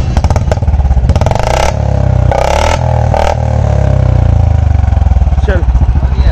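A 2021 Royal Enfield Standard 350 BS6 with a short bottle exhaust and catalytic converter roars loudly, revving up in repeated bursts between a deep idle rumble.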